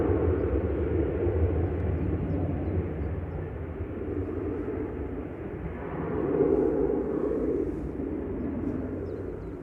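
An EasyJet airliner arriving from Belfast at Manchester Airport makes a steady, broad jet roar that holds throughout and swells slightly toward the middle, heard from a moderate distance with no talk over it.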